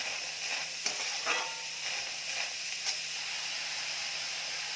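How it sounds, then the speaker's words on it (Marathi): Chopped onion sautés in hot oil in a pan for a Maharashtrian masvadi and rassa curry. A steady sizzling hiss runs throughout, broken by a few scraping stirs. There is no talk. "आता मी यामध्ये तेल टाकत आहे तेलामध्ये कांदा चांगला परतून घेणार आहे"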